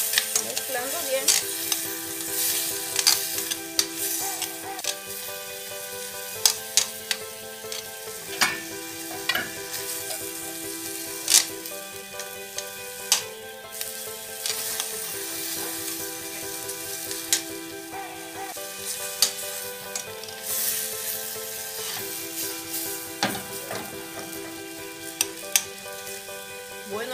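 Steak and onions stirred in a frying pan with a spoonful of escabeche cream, steady sizzling under repeated scraping and clattering of a utensil against the pan, close and continuous.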